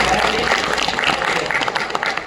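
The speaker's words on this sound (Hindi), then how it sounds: "कक्षा 11वीं के लिए एक बार जोरदार तालियां बजा दीजिए" A crowd at a school farewell function applauds the class 11 students, a dense wash of clapping over about two seconds with a few sharper claps standing out.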